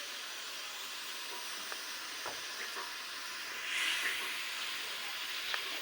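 Yogurt and garam masala roast in ghee for a rajma lobia curry, giving a faint, steady hissing sizzle with occasional soft clicks and a brief louder swell midway.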